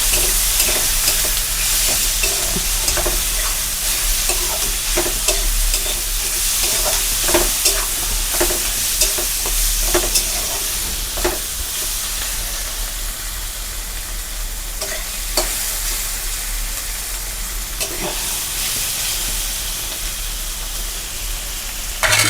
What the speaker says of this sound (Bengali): এখন ভালোভাবে কষায় নিব আমি